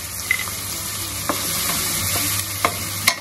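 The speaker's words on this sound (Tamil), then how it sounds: "நல்லா அதை போட்டு வதக்கு." Ingredients for biryani sautéing in a pan, a loud steady sizzle with a few sharp clicks of a spoon stirring against the pan, close up and without voices.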